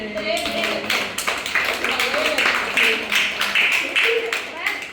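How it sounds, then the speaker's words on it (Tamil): A group of school children clap their hands in a classroom, a scattered burst of quick, overlapping claps repeated over several seconds. "கை தட்டு"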